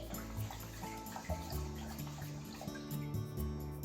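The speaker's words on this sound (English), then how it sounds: "I'm going to cook the rice first, so let's rinse it." Rice being rinsed in a bowl, water sloshing and swirling with soft splashing and grainy rustling, fairly close, over a low steady hum.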